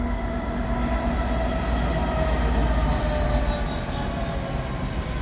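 Class 66 diesel locomotive 66162 passing on a mainline railway, a loud, sustained rumble of engine and rolling wagons close by, steady for the whole stretch with faint wheel noise.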